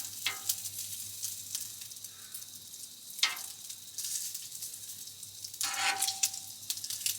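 Eggs fry on a hot griddle with a quiet, steady sizzle, broken by a few sharp scraping or tapping sounds from a utensil at close range.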